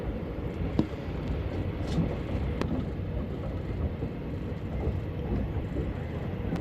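Train travelling from Thailand to Malaysia, heard from inside as a steady low rumble with rhythmic rattling of the carriage and occasional sharp clicks over the rails.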